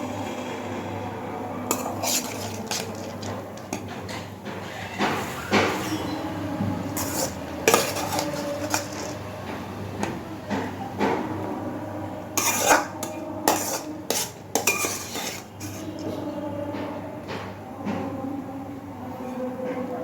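Washed, fried lentils going into a pot of boiling water, with clattering metal pot and utensil knocks, scraping and stirring in irregular bursts, close by against a low steady background hum.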